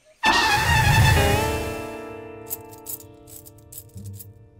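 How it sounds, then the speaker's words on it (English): A car engine starts with a loud burst, then settles into a steady idle hum, with a few faint rattles near the end. "wherever we go, we can always hear the car"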